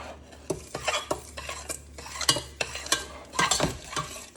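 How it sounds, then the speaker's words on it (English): Four slightly beaten eggs being stirred in a bowl for homemade banana pudding, a utensil scraping and tapping in quick, irregular strokes, close and fairly soft, with no talking. "I use 4 eggs, slightly beaten. Now stir those up."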